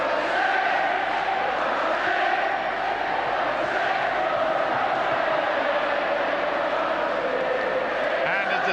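Large crowd of St Helens supporters singing together in the stadium at the 1978 Challenge Cup Final against Leeds, a dense, steady roar of massed voices filling the ground throughout.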